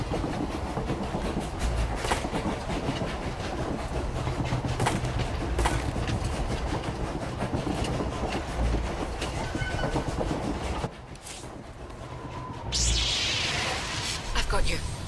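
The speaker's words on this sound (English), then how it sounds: "The train is on the move, and the traitor's on board." An Umbaran supply train in SWTOR moves with a loud, continuous rumble and clatter of rolling wagons. The sound dips briefly and then swells again near the end.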